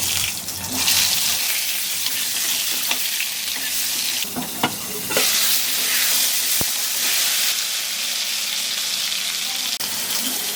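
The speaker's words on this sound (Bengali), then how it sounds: "দিয়ে দেবো সরিষার তেল, তেল বেশি লাগে নিরামিষ রান্নায়। পটলগুলোকে ভেজে নেব।" Pointed gourds (potol) fry in mustard oil with a steady, loud sizzle throughout, punctuated by clattering stirs and scrapes of a utensil, with no talking.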